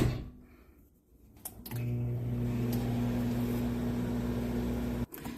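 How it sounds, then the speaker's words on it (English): Microwave oven heating beeswax and butters for a homemade diaper rash balm: a short rustle and clunk, then a steady loud electric hum with a tonal drone running for several seconds before abruptly cutting off. "So I'm going to put that in the microwave."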